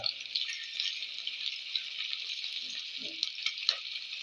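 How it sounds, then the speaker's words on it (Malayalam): Garlic and ginger sautéing in hot coconut oil give a steady bright sizzle, with a few soft stirring clinks and scrapes in the pan. "ഇനി അടുത്ത ഇഞ്ചി ഇത് വഴറ്റിയെടുക്കാം"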